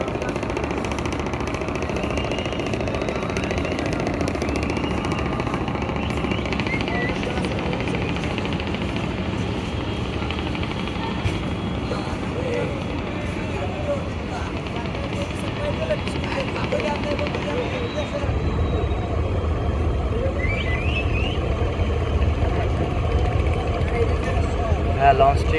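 A passenger launch's engine drones steadily on a river, a continuous low rumble with water wash, growing heavier and louder toward the end, with talk heard over it.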